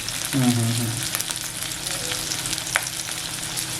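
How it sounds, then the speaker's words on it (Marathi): Onion, tomato and green chilies fry in oil for a prawn masala, a steady crackling sizzle with occasional pops, a brief voice sounding near the start and a sharp clink later. "मिरच्या टाकल्यात मिरच्याही थोड्याशा दोन मिनिटं परतून घ्यायच्या"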